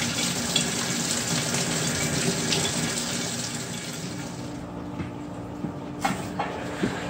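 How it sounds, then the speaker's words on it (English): Tap water runs steadily into a new fish tank being filled, a continuous close gush that thins out toward the end with a few small splashes and knocks. "So now I'm going to go ahead and start my water, filling it up."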